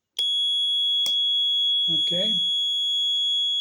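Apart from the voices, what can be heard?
Old Dog Electronics mini house alarm triggering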